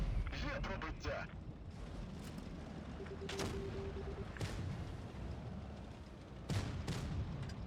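Several heavy booming tank cannon shots from an AMX 30 in World of Tanks Blitz ring out amid constant game rumble, with a brief electronic tone between them; no one speaks.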